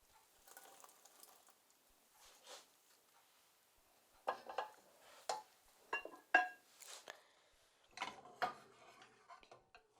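Pasta being stirred into a puttanesca sauce with oil: intermittent soft clinks, scrapes and wet clicks of utensils against a pan, close and quiet, growing busier in the second half.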